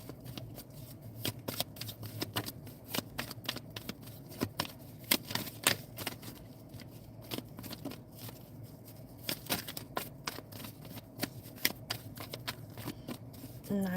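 Tarot cards are shuffled by hand in quick, crisp riffling flicks and soft slaps that repeat throughout at close range, with only faint background murmur.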